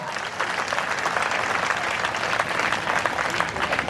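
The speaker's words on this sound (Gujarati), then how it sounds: "જોરદાર તાળી પાડો ભાઈ, જોરદાર. ઉપર હાથ કરીને બધા." A crowd at a university fair claps loudly with raised hands, producing a dense, continuous roar of applause that fills the whole stretch without a break.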